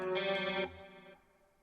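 A short guitar chord rings out, washed in shimmering reverb, then its echoing tail fades away softly.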